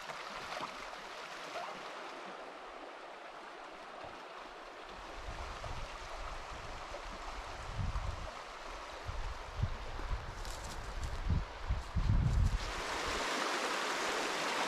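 Fast, shallow river rapids rushing steadily over rocks in Hossa National Park, a broad continuous wash of water that swells with heavier low surges toward the middle and end, heard alone without voices.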